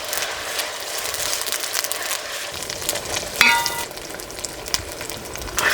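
Tomatoes and green chillies frying in ginger garlic paste in a pan, a steady close sizzle with occasional stirring clinks and scrapes.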